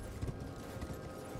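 Horse hooves clop steadily as a rider moves on horseback indoors in Elden Ring, a quiet low rhythmic patter under a soft background drone, with no voices.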